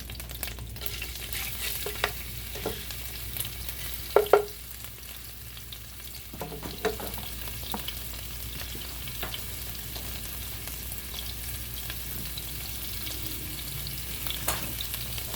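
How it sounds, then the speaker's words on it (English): Garlic frying in a pan for a chicken pasta, a steady close sizzle running throughout with occasional utensil clicks and stirring scrapes, a sharper clatter near the middle, no talking. "now to our pan, we can add garlic."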